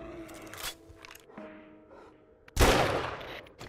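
Single loud pipe rifle gunshot in the console version of 7 Days to Die, a sharp crack with a rumbling tail that follows a stretch of quieter clinks and ambient game sounds.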